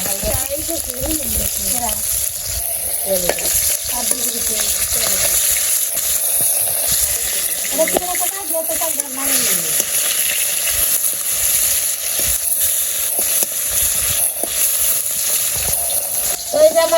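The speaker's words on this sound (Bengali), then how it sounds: "মাছ ভাজা হয়ে গেছে" Fish frying in a pan in a village kitchen gives a steady broadband sizzle throughout, with occasional stirring clatter and faint voices in the background.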